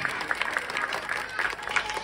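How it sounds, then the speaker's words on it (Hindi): An audience at a Navratri Ramlila cultural program breaks into strong applause, a thick continuous clatter of many hands with uneven surges. "जोरदार ताली, एक बार जोरदार ताली"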